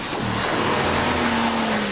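A BMW 535d E60 diesel car races hard toward a finish line, a loud, close, continuous engine roar with a rising drone and hints of tyre squeal, no voices.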